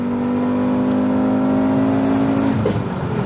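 A loud, close Volkswagen Golf VR5 engine holds a steady, droning rev for a few seconds, then the pitch drops and wavers as it eases off near the end.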